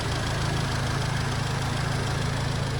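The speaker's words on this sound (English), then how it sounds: "Here the engine running." Audi S3 Stronic 310 Quattro Black Edition idling steadily at close range, a low continuous engine hum with an even, unbroken level and no voices.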